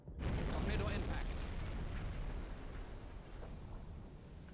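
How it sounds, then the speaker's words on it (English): A deep, rumbling underwater torpedo blast from the submarine game Silent Hunter 5 rolls out as a dense, sustained boom that slowly fades over several seconds. "Torpedo impact."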